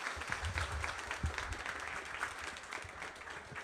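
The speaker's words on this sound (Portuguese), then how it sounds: "Palmas pro Gil aí" Audience clapping for Gil at a football event, a lively, uneven burst of applause with a few louder claps near the start.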